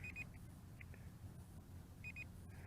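A few short, high electronic beeps from a Ruko F11 Pro drone's onboard DVR recording, in two small clusters separated by a gap, over a steady low hum.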